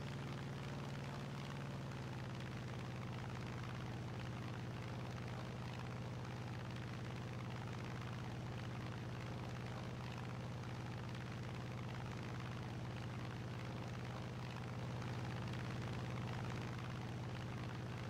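A fighter plane climbs in the War Thunder video game, its engine a steady, loud drone with a constant low tone, continuous and unbroken throughout with no voices.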